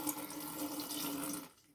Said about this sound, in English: you're going to put water in the bottom of that,